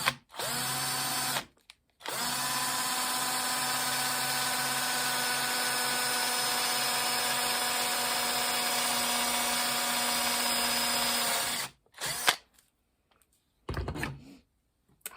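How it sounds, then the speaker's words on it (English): A power drill bores a 5/32 hole through a cheap plastic skeleton prop, a loud steady whine held for about ten seconds after a short first burst, followed by a few brief spurts. "So we're going to drill the 5/32 hole opposite the thumb rest"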